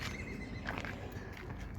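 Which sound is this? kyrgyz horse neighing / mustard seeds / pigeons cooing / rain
kyrgyz horse neighing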